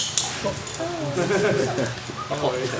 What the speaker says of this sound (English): Not a lot of local government agencies can say that they have been visited by friendly pups.